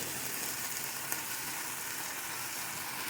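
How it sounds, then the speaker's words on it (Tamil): Chicken and mushrooms cook with cheese in a pan, giving an even, hissing sizzle that stays constant and fairly soft throughout, with one faint tick and no voices. "இப்போ நான் கூட மஷ்ரூமையும் ஆட் பண்ணி நல்லா வதக்கிக்கிறேன்."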